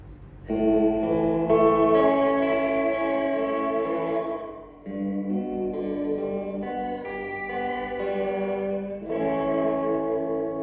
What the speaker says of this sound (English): Once again, crystal clean delay.